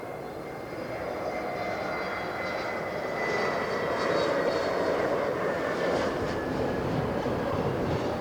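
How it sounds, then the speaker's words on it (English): Jet airliner with CFM LEAP-1A or LEAP-1B engines at LAX, a steady, loud broadband roar that swells slightly and holds for several seconds, with a faint high whine on top. "Lovely sound of the Leap 1As"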